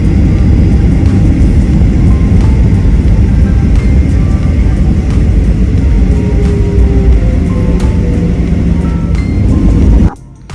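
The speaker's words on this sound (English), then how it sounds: "Our plane's engine soon powered up" Southwest Airlines airliner jet engines powering up for takeoff roar with a loud, steady low rumble and a thin whine above it, sustained for several seconds before abruptly dropping away.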